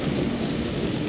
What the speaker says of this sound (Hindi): अभी तो हमें सांबा के रास्ते में तेज बारिश हो रही ना